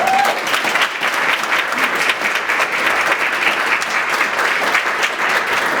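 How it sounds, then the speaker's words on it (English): Steady audience applause at a child abuse prevention breakfast, a room of people clapping continuously and evenly throughout with no speech over it. "Again, let us applaud the success and the life of Mr. Xavier Walker."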